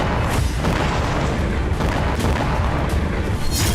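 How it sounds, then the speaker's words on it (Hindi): Heavy bombardment by the Israeli army on Gaza, a dense continuous rumble of explosions and booms with sharper blasts breaking through repeatedly, loud and sustained throughout. "गाजा पर इजरायली सेना का बारूदी भूचाल।"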